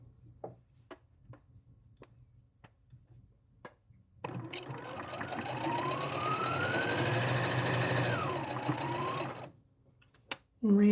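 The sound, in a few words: sewing machine stitching a drawstring bag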